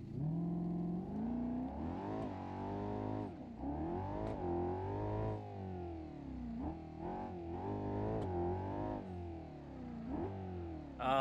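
A turbocharged truck engine on its stock block in BeamNG.drive, revving hard with repeated rising and falling pitch sweeps, steady and loud throughout with no speech over it.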